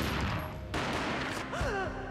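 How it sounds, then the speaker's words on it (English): A single gunshot booms in the PS2 video game Max Payne, a sharp blast that cuts in abruptly, followed by a short ringing tail and other game sounds. "A gunshot boomed and she fell down in slow motion."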